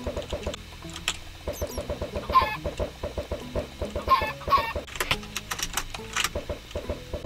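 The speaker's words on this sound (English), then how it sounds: "Anybody want chickens? Because I will give you chickens." Chickens cluck in repeated short bursts over a busy, looping game soundtrack, the clucks fairly close and mixed in with the music.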